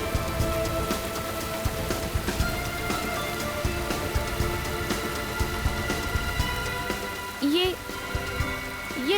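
Steady rain pours and patters on surfaces outdoors in a forest, a dense continuous hiss throughout, with a faint voice-like sound briefly near the end.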